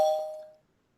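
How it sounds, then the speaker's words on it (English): A spoiler bell gives a single bright ding that rings out clearly and fades away over about half a second, heard alone with nothing else around it. "I'm going to ring the spoiler bell."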